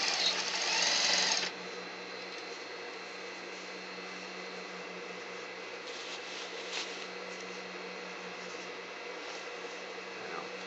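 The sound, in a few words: sewing machine stitching a jacket shoulder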